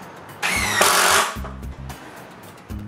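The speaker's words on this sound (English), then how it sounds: "I begin by pre-drilling pallet holes before screwing 3-inch screws." Power drill pre-drilling holes and driving 3-inch screws into pallet wood for a window frame, with two loud whining bursts of drilling followed by shorter, lower pulses of the driver sinking screws.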